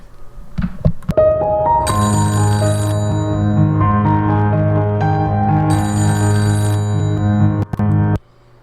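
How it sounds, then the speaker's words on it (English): A mobile phone ringtone plays loudly and alone, a repeating electronic melody with layered tones that starts after a few brief knocks and cuts off near the end. "My phone is ringing."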